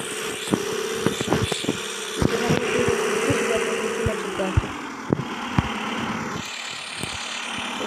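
A pickup truck engine in a video game hums steadily as the vehicle drives off, with sharp clicks and knocks scattered over the drone and a slight drop in pitch partway through.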